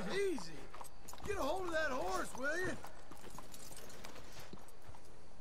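Horse hooves clip-clop in Red Dead Redemption 2 alongside an evenly spaced galloping rhythm, while a voice talks loudly over the first half and a noisy ambient bed fills the rest.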